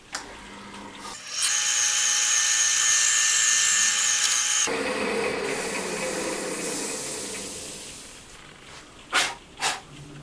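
A high-pitched power drill whines steadily for a few seconds while drilling a shallow hole into the top of an object, then spins down and fades, followed by a couple of short knocks.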